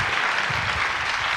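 Dense, steady applause from a church congregation at a revival meeting in an LA church, a brief sustained burst of many hands clapping together.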